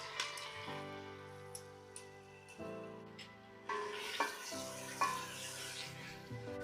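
Ginger garlic paste sputters in hot oil over a high flame beside curry leaves for a coconut-milk prawn curry, a quiet crackling sizzle joined by a sustained musical tone, with sharp spits and pan knocks breaking in now and then.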